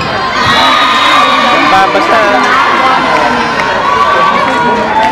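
A dense, loud crowd at an Elmwood Park versus St Viator varsity school game keeps up continuous cheering and shouting, with children's voices and nearby talk mixed in.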